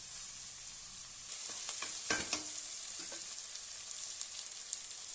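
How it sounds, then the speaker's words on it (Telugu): Ginger and garlic paste frying in a pan, a steady bright sizzling hiss with a few scraping stirs near the middle, continuous and fairly faint, with no speech. "అల్లం వెల్లుల్లి వేయండి ఇవి కూడా ఎర్రగా బ్రౌన్ కలర్ వచ్చే వరకు వేయించుకోవాలి"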